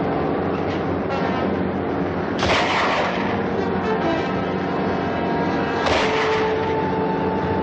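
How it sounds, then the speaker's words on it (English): Several heavy rifle shots boom over a continuous loud rumble in a 1951 adventure serial soundtrack, the two strongest cracks standing out sharply, with a train-like roar running underneath. "Grab that rifle and shoot out the light."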